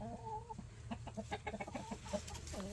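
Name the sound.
broody hen clucking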